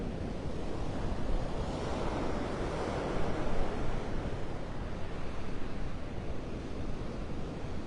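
Strong Hurricane Helene wind buffeting a microphone at Vanderbilt Beach in North Naples, Florida, a loud continuous roar of gusts and surf with no break and no voices.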